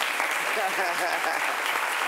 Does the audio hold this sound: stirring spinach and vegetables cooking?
no